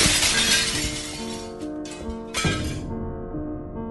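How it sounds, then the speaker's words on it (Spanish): Glass shatters loudly in a sharp crash, followed by a second burst of breaking and the tinkle of falling shards over a sustained tonal backdrop. "Seguí golpeando con fuerza, por 4 ocasiones, hasta que rompí el vidrio."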